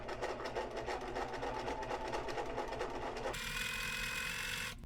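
A sewing machine stitches a zigzag using a special presser foot, its rapid steady mechanical whir running close and continuous, shifting to a higher, smoother hum partway through.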